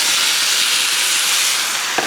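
Shrimp hit a hot pan and sizzle loudly, a dense steady hiss close by, with a small knock just before the end and no talking.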